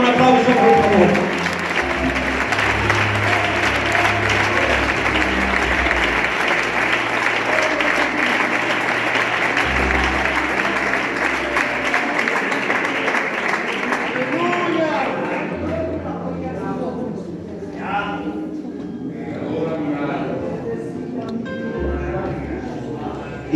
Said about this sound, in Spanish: Adórale con un aplauso, por favor.